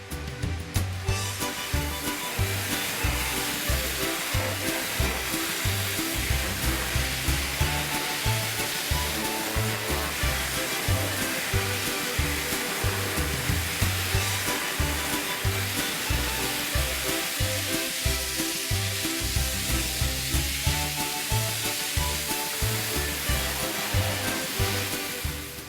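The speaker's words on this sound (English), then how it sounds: "the high-pressure gun and the Woma speed control turbo nozzle are employed in" A Woma ultra-high pressure water blasting gun with a speed control turbo nozzle cleans a ship's hull, a loud continuous hiss and roar with a pulsing low rumble that runs steadily throughout.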